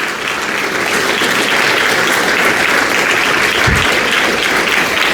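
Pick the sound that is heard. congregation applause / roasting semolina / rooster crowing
congregation applause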